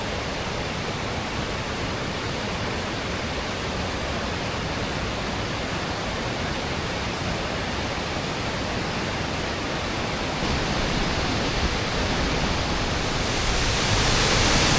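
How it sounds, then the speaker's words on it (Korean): Roaring waterfall at Naeyeonsan, a dense, unbroken rush of heavy falling water close by, swelling slightly louder near the end, with no one speaking. "아주 폭포수가 우렁차게 흐르고 있습니다"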